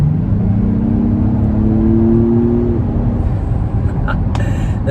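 A 2022 Acura MDX Type S engine accelerates under throttle, its tone swelling and rising steadily for a few seconds before easing off, with constant road and wind noise underneath.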